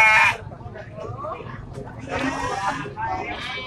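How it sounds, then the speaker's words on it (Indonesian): A Javanese Randu nanny goat with her three kids at the Parung Bogor livestock market gives a loud, close bleat at the start, followed by quieter animal noises while people talk nearby. "ini ada indung anak nih kambing jawa randu induknya beranak tiga"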